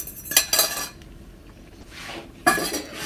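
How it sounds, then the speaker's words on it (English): Two quick metallic clatters of a pan and utensil while an egg goes in for an omelet, then a quiet soft hiss before another sharp clink and rattle, all close with no voices. "we'll take the egg and now add it to the pan"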